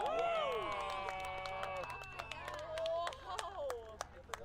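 Crowd on a beach cheering and clapping during a total solar eclipse, a mix of whoops, claps and chatter at moderate distance, with a sustained tonal whine running beneath and voices talking throughout.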